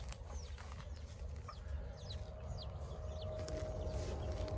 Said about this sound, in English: Okay, the chicks are chirping this morning.